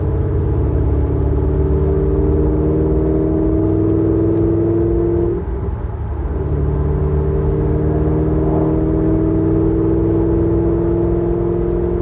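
Chevrolet Corvette C5 Z06 cruising at night, a loud, steady engine drone and road rumble heard from inside the cabin, with a brief dip in the hum midway before it settles back to an even tone.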